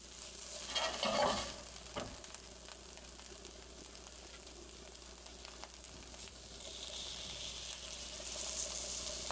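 Scrambled eggs are poured into a frying pan of rendered chorizo oil and stirred, giving a faint, soft sizzle with a brief louder splash early on and gentle scraping, fairly quiet and with no talk.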